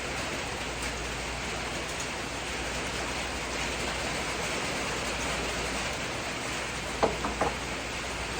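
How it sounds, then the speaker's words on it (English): Steady rain falls outdoors, a constant soft hiss of drops hitting surfaces, with a few faint knocks near the end and no voices. "It is raining right now."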